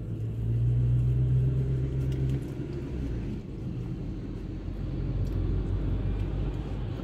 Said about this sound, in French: Donc il y a un gros camion qui passe, regardez.